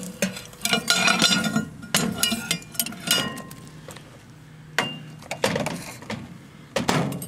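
A metal spatula scraping and clinking against a dish of microwaved, blackened salmon eggs, with sharp irregular scrapes and taps in clusters, close and fairly loud.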